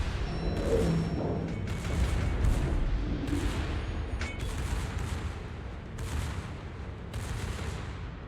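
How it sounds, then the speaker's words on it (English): Secondary guns on the Des Moines, a cruiser in World of Warships, firing in repeated bursts of booming shots over about eight seconds, with a steady rumble of battle noise underneath and no voices. "secondaries on the Des Moines."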